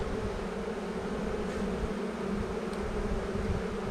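Honeybees swarm around an open hive frame, producing a dense, continuous buzzing that stays close and steady, with no talking.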